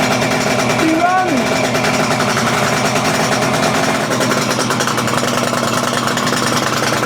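Kawasaki KH250 two-stroke motorcycle engine running just after starting, a steady, loud, buzzy ring-ding idle with rapid pulsing, with a voice heard briefly near the start.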